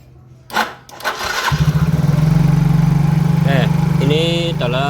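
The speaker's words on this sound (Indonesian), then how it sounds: "kita coba nyalakan mesinnya" A Yamaha Mio J scooter engine is started, catching after a brief crank and settling into a loud, fast, steady idle at high revs, with someone talking over the running engine.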